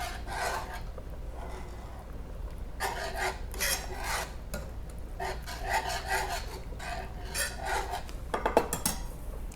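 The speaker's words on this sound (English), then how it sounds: "we'll just whisk this in and create a beautiful cream sauce" A whisk scrapes and rubs against a pan as Parmesan cheese is worked into a cream sauce off the heat, in repeated rhythmic bursts of metallic rasping with brief pauses between strokes.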